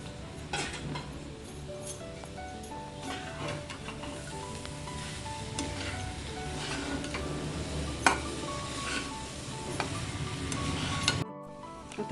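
Steady stirring and scraping of rice frying in a pan with egg and dried fish, with a soft continuous sizzle and frequent metal utensil clinks throughout, ending abruptly.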